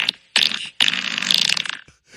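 Cartoonish fart sounds from the Fart World phone soundboard app, two loud sputtering blasts in quick succession, the second long and fluttering, played close to the microphone with no talking.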